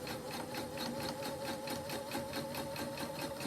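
A sewing machine stitches Olsen face mask pieces with a quiet, steady, rapid mechanical whir that runs uninterrupted throughout.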